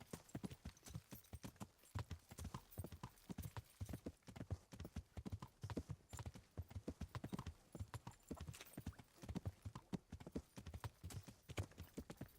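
A horse ridden at a brisk pace in the medieval game Kingdom Come: Deliverance, hooves clip-clopping in a steady rapid rhythm, close and continuous throughout.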